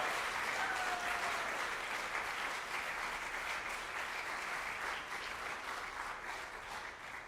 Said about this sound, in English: So one more round of applause for Aaron Martinez